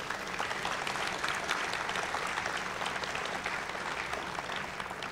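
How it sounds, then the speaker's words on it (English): A large conference audience at Skepticon 6 breaks into sustained applause, a dense, even roar of many hands clapping together that holds steady throughout, fairly distant and soft. "Please give him a round of applause for all the students his work has touched."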